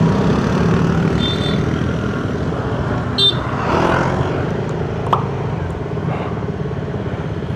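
Heavy road traffic with cars passing, a continuous low rumble of engines and tires with a few brief sharper noises, heard from nearby with no talking.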